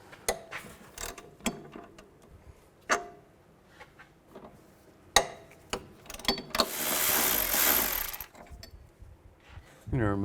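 A ratchet with a 13mm socket loosens the lower shock bolts on a 2003-2007 Cadillac CTS front strut, giving scattered ticking clicks in short bursts, then a longer fast ratcheting stretch, fairly faint and close.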